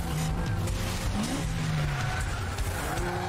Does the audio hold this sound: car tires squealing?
yes